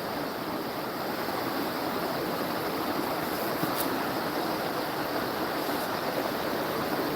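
The Salmon River at Pulaski, NY rushes past in a continuous broadband wash of flowing water, steady and close with no pauses or voices.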